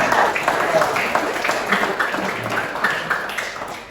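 Classroom applause breaks out after a correct answer in a music lesson, a dense patter of many hands clapping close by for a few seconds, with voices mixed in.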